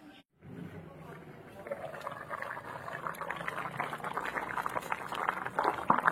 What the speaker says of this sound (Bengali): আর 2 মিনিট মতো ফুটিয়ে নিলেই কিন্তু আমাদের একদম পুরো গাটি কচু দিয়ে বেগুন দিয়ে কাতলা মাছ রান্না হয়ে যাবে